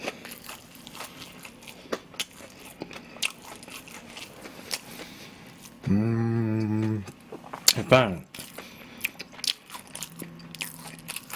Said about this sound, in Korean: 이건 되게 바삭하긴 한데, 그러니까 입천장에 다 까져.